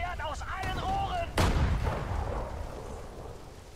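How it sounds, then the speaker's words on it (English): Cannon fire from tanks and anti-tank guns in the WWII strategy game Sudden Strike 4 during Operation Overlord: one heavy, loud boom follows a short stretch of voices and fades into a long rumbling tail. "Feuert aus allen Rohren."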